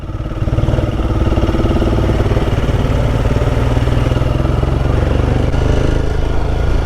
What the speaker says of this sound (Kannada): ಇಂಜಿನ್ ಸೌಂಡ್ ಬರ್ತಾ ಇದೆ